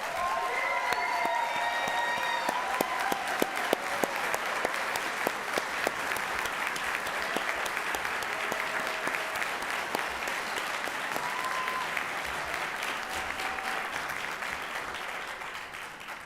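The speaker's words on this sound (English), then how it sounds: "provide some applause for this amazing faculty" A large audience at a university commencement ceremony applauds the faculty, with sustained dense clapping, a few whistles and cheers rising above it, steady throughout before easing slightly at the end.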